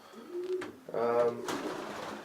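Pigeons cooing inside a pigeon loft, soft repeated throaty coos close by with some rustling, and no talk over them.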